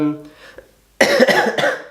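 A sudden burst of harsh coughing after a quiet moment with a faint voice, loud and close, two or three rough hacks in quick succession.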